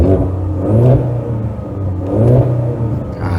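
Exhaust of a Ford Mustang EcoBoost 2.3 with its active valve open, a loud, steady engine drone that swells in two revving surges before easing back.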